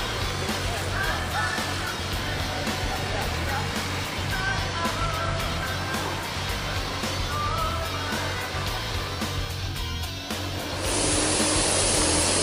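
A long-distance bus pulls out of a terminal with a loud, steady engine roar and road rumble that swell as it accelerates, filling the whole stretch.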